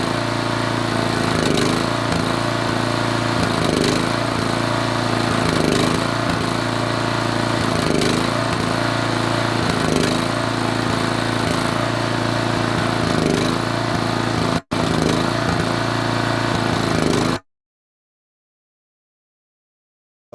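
A 12 hp Briggs & Stratton flathead engine on a Swisher tow-behind mower runs loud and close, its drone swelling and dipping in a steady surging rhythm before cutting off abruptly into silence.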